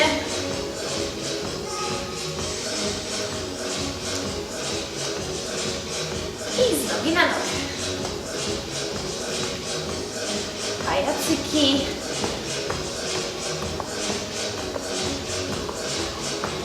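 Young children run in place on the floor during an online dance workshop for a younger group, producing a steady, rapid patter of shuffling steps that continues throughout beneath background music, with a couple of brief louder scuffs.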